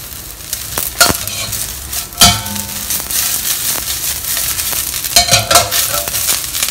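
Sichuan spicy chicken with spring onion is stir-fried in a wok, giving a steady close sizzle broken by sharp scraping and clattering strokes of the spatula, several loud ones spaced unevenly, with no talk.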